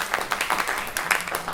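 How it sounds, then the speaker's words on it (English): Audience applause in a creative-business evening gathering, a steady dense patter of many hands clapping together at moderate volume with no talk over it. "we support each other with a little applause"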